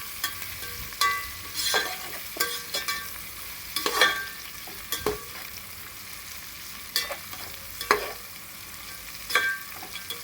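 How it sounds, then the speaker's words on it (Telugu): Onions for moong dal khichdi sizzle steadily in a hot pan, broken by sharp, close scrapes and stirs of a spatula at irregular intervals, with no talking. "ఆనియన్ వేసుకున్నానండి. ఇది దూరగా కాల్చుకోవాలి ఫ్రెండ్స్"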